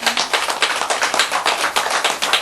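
Audience clapping during a Buddhist lecture, a short burst of brisk rhythmic claps that sound close and fairly loud, with no talk over them.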